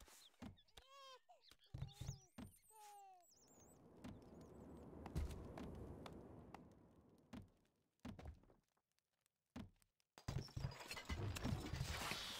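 Horse hooves clip-clop in the medieval strategy game Stronghold: Crusader, a run of rhythmic thuds broken by game chimes, short bursts of music and pauses, with a spoken game line near the start.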